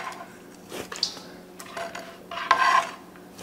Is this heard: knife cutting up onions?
yes